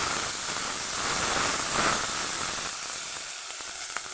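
Garlic paste going into a hot pan of spiced oil for a Bengali fish curry, producing a continuous hissing sizzle that swells briefly in the middle, then settles and thins toward the end.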